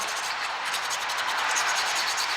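Old sealant being scraped off an Audi A3 sump, a steady close rubbing scrape that runs continuously without pause or talk.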